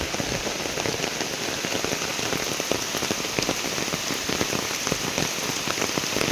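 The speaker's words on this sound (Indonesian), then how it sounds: "hujan deras begini" Heavy rain falls at night on a house beside rice paddies and a river, a dense, loud, constant patter of drops hitting surfaces with no voices over it.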